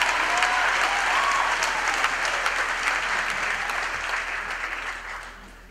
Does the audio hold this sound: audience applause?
yes